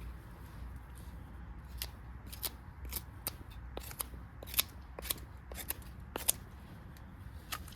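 A handmade bushcraft knife carving feather sticks from wood, producing a quick series of sharp, crisp scraping shaves close by, irregularly spaced over a quiet background.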